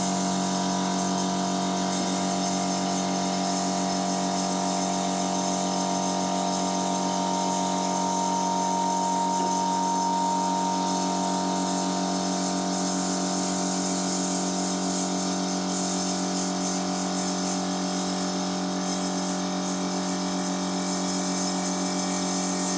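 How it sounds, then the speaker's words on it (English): An air compressor in a workshop, used during rust repair on a car's right-hand wheel well, runs continuously at a loud, steady pitch with a constant mechanical drone and no pauses. "we're waiting for the compressor to stop"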